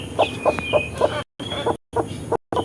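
A desi hen on a small home poultry farm clucks in a steady series of short, close calls, with brief silent gaps between bursts.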